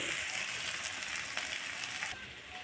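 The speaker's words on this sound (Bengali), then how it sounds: "যত সুন্দর করে ভেজে নেবে তত স্বাদটাও বেশি আসবে এবং উচ্ছেগুলো তিতেও লাগবে না" Bitter gourd frying in a pan gives a steady, close hiss of sizzling oil. It holds even throughout and eases slightly near the end, with no voices.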